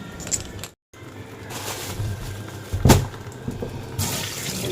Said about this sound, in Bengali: সবজিগুলো ধুয়ে নিই, এখানে দেখো কত সবজি।